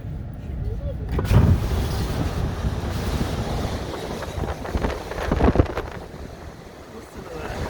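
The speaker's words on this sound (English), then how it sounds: "Some wind gusts?" Strong derecho wind gusts roar across the microphone in Hartford, South Dakota, as a steady broadband rush with two louder surges early and late.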